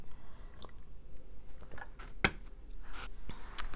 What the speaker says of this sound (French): je vais prendre une gorgée de tisane déjà